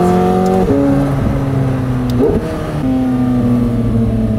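McLaren 720S with a Valvetronic Designs exhaust and stock downpipe, a loud continuous engine drone near the microphone, rising through revs with gear-change dips and a brief rasp partway through.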